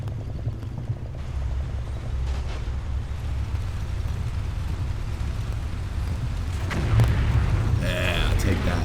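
Artillery shells exploding in the Combat Mission Red Thunder war game: a steady, heavy low rumble of bombardment that swells into a louder blast near the end, with talk over it.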